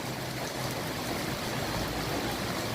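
Steady, rushing floodwater flowing through a riverside neighborhood during a super typhoon, a continuous broadband wash with no voices.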